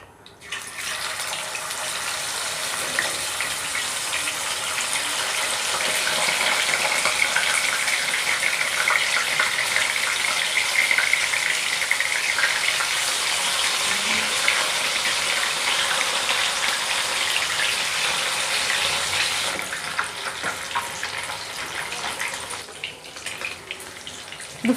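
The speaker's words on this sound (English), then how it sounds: "We are adding oil to the pot and we'll allow the oil to heat properly before we start frying our fishes" Fish sizzles in hot mustard oil in a pot, a dense, steady crackling hiss that swells in the middle and eases near the end, close and fairly loud with no talking.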